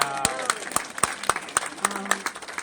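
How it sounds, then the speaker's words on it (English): A small group at a meeting claps in sparse, distinct slaps, close and fairly loud, with an occasional voice in the background. "We applaud her"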